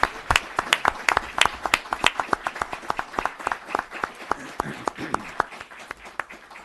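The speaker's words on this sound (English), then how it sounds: "let's give them another round of applause" Scattered hand clapping at a town board meeting, a modest group of people clapping unevenly in a small room, the sharp claps fairly close and slowly thinning out.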